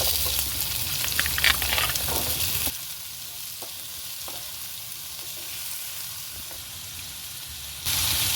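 Cut potato pieces fry in a pan for an oil-free breakfast. A busy sizzle and crackle is loud at first, softens to a quieter hiss for several seconds, then surges again at the end.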